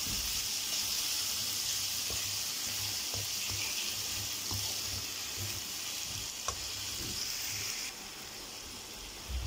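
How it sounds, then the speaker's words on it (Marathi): Chopped onions, salted beforehand, and tomatoes sauté in hot oil for egg biryani, giving off a steady, close, hissing sizzle that runs throughout with occasional faint clicks and no talking. "टोमॅटो पूर्ण गाळ होईपर्यंत आपल्याला हे परतून घ्यायचं आहे।"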